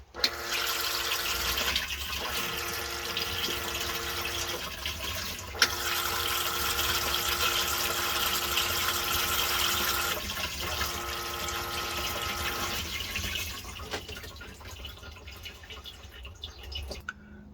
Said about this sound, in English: So now that the flush tank is full outside, you can go ahead and test out your pump.